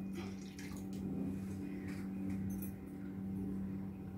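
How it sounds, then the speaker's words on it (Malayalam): Vinegar poured into a pan for grape pickle, a quarter cup in a steady, soft liquid stream with faint clinks, heard close in a quiet kitchen with a low hum beneath. "1/4 കപ്പ് വിനാഗിരിയാണ് ഞാൻ ഒഴിക്കുന്നത്."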